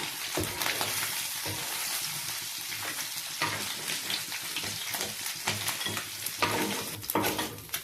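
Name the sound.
local fish frying in oil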